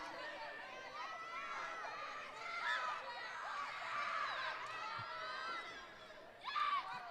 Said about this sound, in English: You can hear a lot of I believe it's the Richland Bomber section behind us here that's cheering on their teammate, Savannah Thorpe